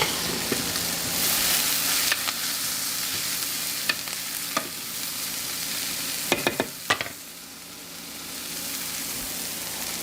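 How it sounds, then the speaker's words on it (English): Green onions frying in a pan while being stirred, a continuous loud sizzle broken by several scraping and tapping strokes of a utensil, the sizzle dipping briefly before rising again. "stir my onions."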